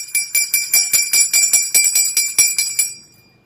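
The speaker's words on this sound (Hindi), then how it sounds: "इसमें घंटी बजा देंगे।" A small metal ritual hand bell rung during a Hindu puja, about a dozen bright, rapid rings in steady rhythm, close and clear, then a ringing tail fading out.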